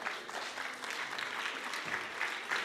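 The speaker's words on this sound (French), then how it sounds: "On les applaudit bien fort." An audience at a talk claps, a steady wash of many hands applauding at moderate volume with a few sharper individual claps standing out near the end.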